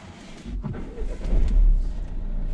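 A car's engine turns over and rises to a deep, loud rumble during a UK driving lesson, then settles into a steady idle; no one speaks.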